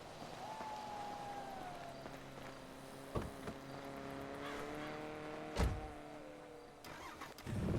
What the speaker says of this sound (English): Okay, I'm gonna take Julio's truck back to him.